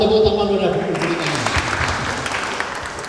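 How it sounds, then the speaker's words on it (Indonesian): Audience at a KONI Wonosobo sports committee meeting applauds, a burst of dense clapping that breaks out after a speaker and carries on steadily, with talk over it. "Ya, mohon tepuk tangan udah diberikan."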